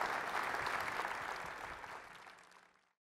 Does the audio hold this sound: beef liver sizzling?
no